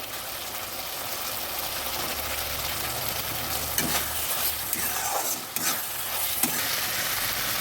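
Capsicum fries in an oily pan with a constant loud sizzle and occasional stirring scrapes, close up and without talk.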